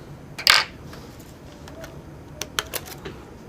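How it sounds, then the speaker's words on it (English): A Sony Vaio laptop keyboard is pried out of its housing, with one sharp click and rattle near the start and then a cluster of small plastic clicks and taps, close and alone. "Keyboard's coming out now."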